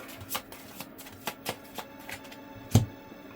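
Playing cards for the Backrooms trading card game are shuffled close by, with a run of crisp riffles and snaps at irregular intervals and one sharper slap near the end, quiet and without talk.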